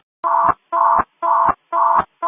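Fire radio evacuation alert tones: a loud, clear series of identical steady electronic beeps, four full tones and the start of a fifth, in an even repeating rhythm with short gaps.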